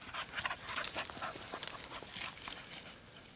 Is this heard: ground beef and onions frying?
no